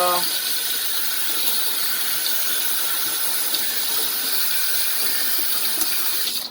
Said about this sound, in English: We got cold water here. Rinse off all the pasta.